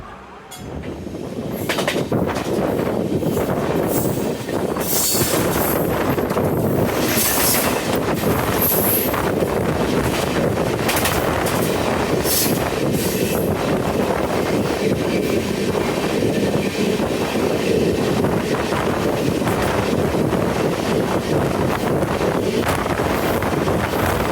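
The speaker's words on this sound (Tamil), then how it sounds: "வண்டி சும்மா பறக்குதுங்க." Cheran Express train racing along at high speed, a loud continuous roar of wheels on rails and rushing wind buffeting the microphone throughout, with no talk.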